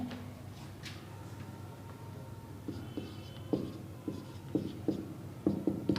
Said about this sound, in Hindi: सो गाइस चलिए मैं एक सेंटेंस लिखता हूँ